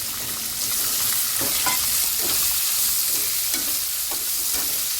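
Chopped onions frying in hot oil in a pan for batata vada, with a loud continuous sizzle and scraping stirs of a spoon through the pan, and no speech.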